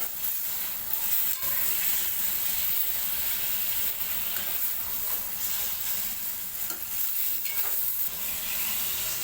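Bangda mackerel gets mixed into masala in a pan, with a continuous close sizzle and hiss of frying under soft scraping stirs, with no talk.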